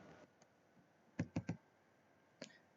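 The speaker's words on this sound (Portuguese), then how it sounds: "a gente dá um Enter" Keys clicking on a computer keyboard, a quick run of three firm taps, then a single tap a moment later, close and quiet in a still room.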